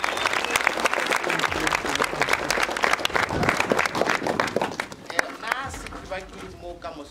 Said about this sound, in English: We need to clap hands and say we made it.